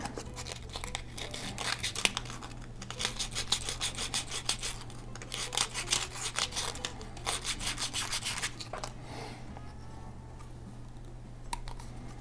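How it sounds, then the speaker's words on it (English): Close, quiet scratchy rubbing comes in quick bursts as the small tabs on cardboard centering rings for an Estes Mayhem model rocket are sanded down, then a pause and a few faint scrapes. "I'm going to sand down those little tabs a little bit."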